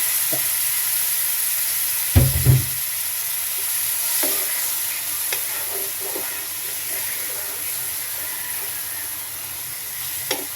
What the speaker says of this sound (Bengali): এখন ঝোল দিয়ে দিচ্ছি, নারকেলের দুধ ছিল